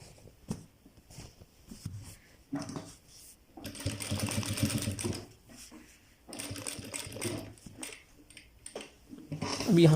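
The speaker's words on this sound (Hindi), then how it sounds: "अब हमने यहाँ से अपनी जो स्टिचिंग है वो आगे बढ़ानी है।" A sewing machine stitches along a shirt placket, its motor running in bursts of steady whirring with short pauses between runs, close and fairly loud, with faint clicks and handling noise.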